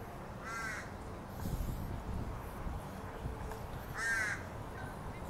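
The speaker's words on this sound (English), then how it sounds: "Crows." Crows cawing outdoors near a town's central cafes and shops, two harsh calls spaced a few seconds apart over steady street background noise.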